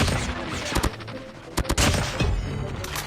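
Bursts of rapid gunfire in Call of Duty Mobile crackle in short volleys, loud and close, with sharp individual shots between them and a voice occasionally heard.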